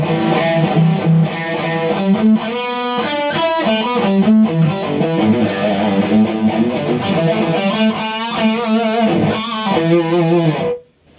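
Electric guitar played through a James Brown Kustom Double Cross amp with heavy distortion, a dense run of chords and riffs with clear dynamics, loud and alone, ending abruptly.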